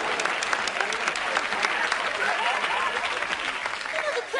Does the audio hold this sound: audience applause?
yes